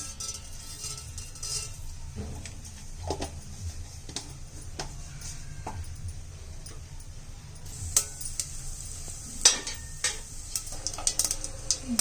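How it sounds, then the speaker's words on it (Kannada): Quiet, scattered sharp pops and crackles of mustard seeds spattering in hot oil, tempering for drumstick sambar, growing busier toward the end over a low background hiss. "ಈಗ ಸಾಸಿವೆ ಹಾಕ್ತಾ ಇದ್ದೀನಿ."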